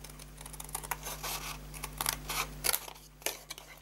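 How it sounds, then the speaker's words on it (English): Scissors snipping a wedge into the flap of a handmade paper gift box, a series of short crisp cuts and rustles, close and fairly quiet over a steady low hum. "we're going to cut a wedge in as well"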